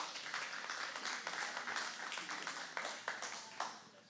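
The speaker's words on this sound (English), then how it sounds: "they're the ones that put all this on. Please give them a round of applause" An audience at a community Q&A on a proposed 765-kV transmission line applauds the Edwards Plateau Alliance organizers, steady, fairly faint clapping from a modest crowd that carries on for several seconds with a few sharper individual claps.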